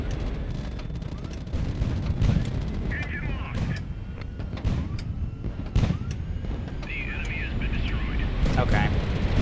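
Missile strike and gunfire in a naval video game, with repeated sharp blasts and booms at irregular intervals over a rumbling battle background, moderately loud.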